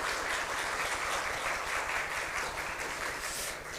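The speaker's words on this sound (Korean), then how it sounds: "우리 김희신 목사님께 다시 한번 감사의 박수로" A church congregation at a Sunday worship service applauds steadily, a dense wash of many hands clapping at even loudness throughout with no talk over it.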